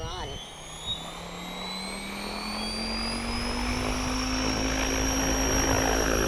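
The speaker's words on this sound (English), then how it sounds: "Let the helicopter spool up." RC model helicopter spooling up, its motor and rotor whine climbing steadily in pitch and loudness, close by and sustained throughout.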